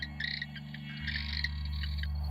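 Masked cave frog trilling in short bright bursts, a canary-like repeated call over a steady low background hum, fairly near and faint.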